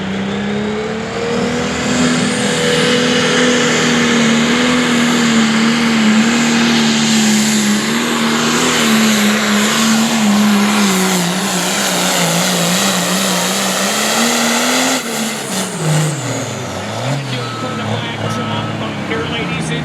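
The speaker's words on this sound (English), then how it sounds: "Diesel pickups will be the next class on track 2." Diesel pickup truck pulling a sled on a dirt track at an outdoor truck and tractor pull, its engine roaring loud and sustained for about fifteen seconds before the pitch drops and falls away, with faint commentary over it.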